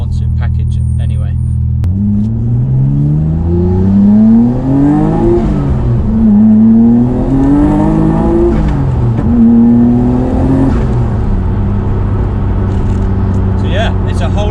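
A Nissan R32 GT-R with a 2.8-litre stroker engine and turbochargers drives close by, its engine rising and falling through several revving accelerations and gear changes, a loud steady drone throughout.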